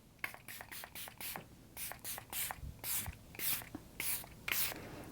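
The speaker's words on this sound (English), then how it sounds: "So I'm just gonna lightly mist my face with this." Fine-mist setting spray spritzed onto a face in a rapid series of short, soft hissing bursts at close range, with light handling noises between them and no speech.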